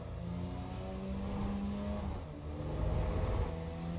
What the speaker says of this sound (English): hear the turbo spooling. That's cool.